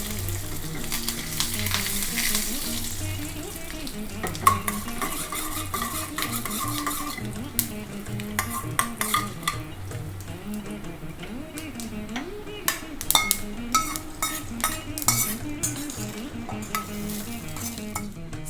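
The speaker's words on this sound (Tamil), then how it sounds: "கொஞ்சம் கடலைப்பருப்பு, கொஞ்சம் சீரகம்." Chana dal, cumin, curry leaves and mustard seeds tempering in a pan, a steady sizzle with scattered pops and spoon scrapes against the metal, close and continuous throughout.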